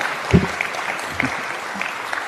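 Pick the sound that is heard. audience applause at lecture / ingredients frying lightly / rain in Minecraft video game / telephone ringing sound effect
audience applause at lecture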